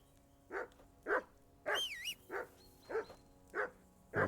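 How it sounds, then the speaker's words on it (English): A dog barks in the medieval role-playing game Kingdom Come Deliverance 2, seven short sharp barks in a steady rhythm, close and loud, with a brief whistle-like tone partway through. "Whistle at that mutt of yours to stop barking."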